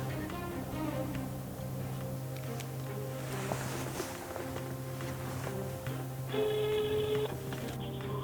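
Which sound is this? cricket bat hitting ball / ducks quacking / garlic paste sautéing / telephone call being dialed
telephone call being dialed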